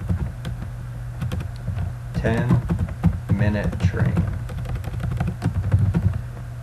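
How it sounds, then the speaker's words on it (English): Rapid clicking of keys on a computer keyboard continues throughout, close and steady, while a person speaks briefly over the typing. "I am going to go ahead and just start typing in the text box."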